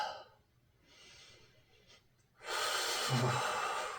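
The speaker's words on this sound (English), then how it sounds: "Breathing deeply." Deep breathing during an intermediate core strength and flexibility golf workout: a soft inhale, then a long, loud, forceful exhale close to the microphone, with no talk.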